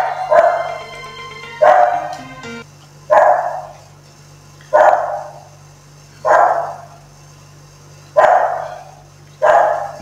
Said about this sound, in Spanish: Voy a abrirle la calle a la pesada de mi perra.